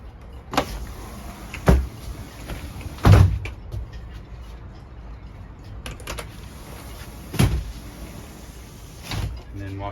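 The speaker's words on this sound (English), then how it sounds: "Beautiful sliding doors here. It's 3-part sliding doors." Three-part sliding doors on a 2020 Beneteau Antares 23 boat, several separate sharp slides and knocks spaced a few seconds apart over quiet background noise.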